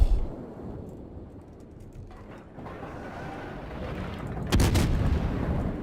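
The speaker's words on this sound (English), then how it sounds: "And again, another salvo out." A Tier 7 American cruiser, the New Orleans, fires a main gun salvo in World of Warships: a deep booming blast at the start and another heavy boom near the end, with low rumbling ambience between.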